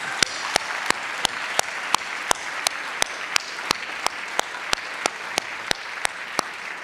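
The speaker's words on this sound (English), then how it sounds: "Let's give Jeffrey another round of applause, please." An audience applauds in a sustained, dense wash of clapping, with one sharp, evenly timed clap standing out throughout.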